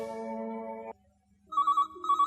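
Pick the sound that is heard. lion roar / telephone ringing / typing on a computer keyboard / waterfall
telephone ringing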